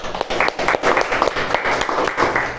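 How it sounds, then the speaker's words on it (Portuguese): Classroom group claps for a student who answered correctly, a dense steady patter of many hands lasting the whole stretch, fairly close and loud. "palmas para o Mateus"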